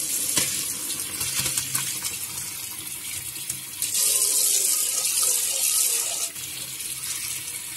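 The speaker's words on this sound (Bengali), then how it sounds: "আর কলটা ছেড়ে দেব, দিয়ে আমি ছানাটাকে ছেড়ে নেব" A kitchen tap runs steadily over chhena set in a basket, a continuous splashing water stream that swells louder midway before easing back, with no talking.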